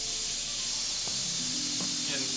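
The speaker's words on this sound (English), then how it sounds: "steam is gonna come out" Steam hisses out as the lid comes off a pot in the galley of an Aquila 44 yacht, where the food was cooked in beer. The hiss is a steady, moderately loud rush, with faint voices and small knocks underneath.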